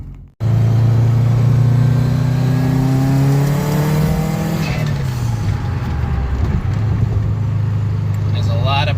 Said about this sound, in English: So I'm gonna take the car for a ride now. I'm gonna do a pull